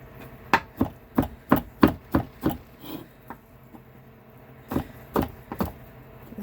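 A knife slices leftover chicken on a wobbly cutting board, landing about eight quick, evenly spaced knocks, then a pause, then three more, close and clear.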